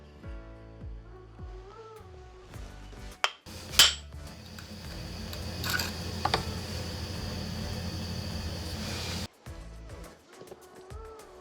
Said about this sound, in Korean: 먼저 이 핸들 부분을 분리를 해 줄게요.